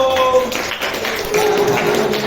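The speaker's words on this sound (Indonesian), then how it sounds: "Tepuk tangan untuk kelompok 1." A classroom of students claps for a presenting group during a teaching-practice lesson, a brisk scattered patter of hands that holds steady for a couple of seconds, with faint tonal hum behind it.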